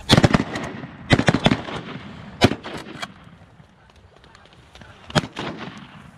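Shotgun blasts fired at geese landing on grass, several sharp loud reports in quick bursts, some doubled, with echoing decay between shots outdoors.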